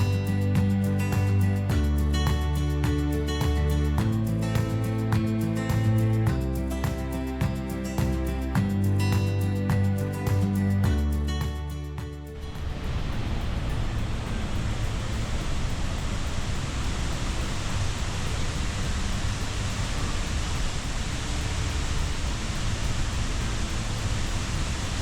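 Steady broadband roar of a South Iceland waterfall, heard alone and close, starting abruptly partway through and continuing unbroken after a louder musical passage ends.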